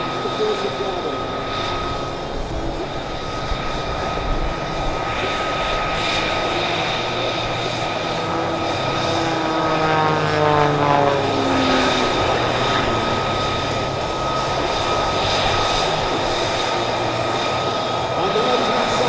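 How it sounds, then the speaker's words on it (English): MXS aerobatic aircraft flying a display at Airpower Over Hampton Roads 2023, its engine droning loud and steady with a rising, shifting pitch as it climbs and passes, under an announcer talking over the PA. "the MXS Aircraft is certified for plus or minus 16 times the force of gravity."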